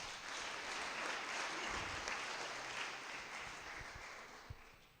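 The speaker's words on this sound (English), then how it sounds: "I think that also deserves a round of applause." A crowd gives a sustained round of applause at an artisan graduation ceremony, dense steady clapping at moderate distance that tapers slightly toward the end.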